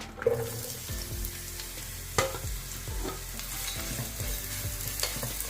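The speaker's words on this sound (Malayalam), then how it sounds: "സവോള നല്ലപോലെ ബ്രൗൺ കളർ ആകുന്നത് വരെ നമുക്ക് വഴറ്റിയെടുക്കാവേ" Four thinly sliced onions sauté in hot oil with a steady sizzle while a spoon scrapes and stirs in repeated knocks, close and clear with no voices.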